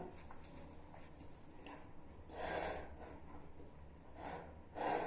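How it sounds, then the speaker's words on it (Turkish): Tense, fearful breathing in a quiet room, with a few louder breathy gasps or snorts rising out of a steady low background. "Korkudan nefes alıyorum."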